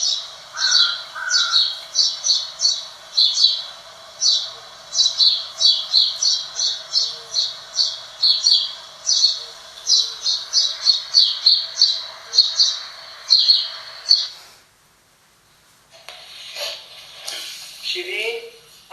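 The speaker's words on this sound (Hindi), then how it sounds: "सुबह का वक्त है, पंछियों की आवाज आ रही है।" Birds squawk and chirp in the morning, a dense run of bright, repeated calls for about fourteen seconds, fairly close, then a short pause before a few more chirps and faint voices near the end.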